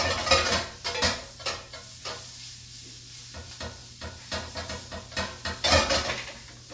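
Eggplant sizzles and fries in a pan while a spoon scrapes and stirs it in repeated bursts, with clinks of utensil against cookware rising over a steady hiss, close and fairly loud.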